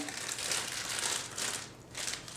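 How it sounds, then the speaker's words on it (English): Plastic bag crinkling loudly and continuously as homemade pasta dough, made in a food processor, is pulled out of it, with bursts of rustle swelling and easing in close, busy waves and no talk. "So we'll take it out of the plastic bag."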